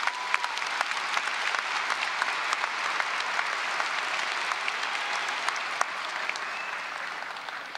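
Sustained applause from a large crowd at a high school graduation ceremony, steady dense clapping that holds at an even level throughout with no talking over it.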